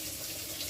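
Soft, steady trickle of warm water being poured into a pan for chicken and stove top stuffing, faint and continuous with no voices over it.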